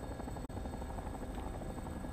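A video game helicopter's rotor thumps steadily with a dense, throbbing drone, close and continuous throughout.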